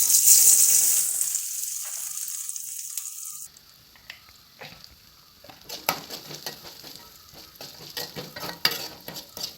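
Grated coconut roasts and is stirred in a pan for Kerala chickpea curry, giving a steady dry sizzle with scraping stirs and a brief watery rush at the start, close and continuous with no talk.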